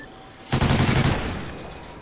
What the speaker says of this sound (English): Oh shit, the bomb has been thrown.